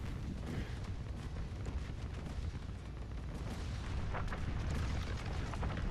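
A massive explosion during the Fortnite Chapter 5 Season 3 final live event: dense, loud, continuous booming and rumbling that fills the whole stretch with no pause, swelling slightly near the end.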